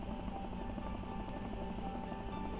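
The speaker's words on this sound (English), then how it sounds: "There's still a helicopter." A helicopter in a bridge-building video game drones with a steady low rotor thrum, faint and continuous in the background with a soft chirp partway through, no talking.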